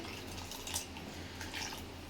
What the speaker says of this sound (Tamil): நம்மளுக்கு எவ்வளோ சாம்பார் தேவையோ அந்த அளவுக்கு தண்ணி ஊற்றிக்கலாம்